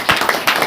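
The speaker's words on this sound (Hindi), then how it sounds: "बोले यीशु मसीह की ताली बजा करके परमेश्वर" A church congregation at a Saturday prayer meeting claps hands in a quick, loud, uneven burst of four or five close claps.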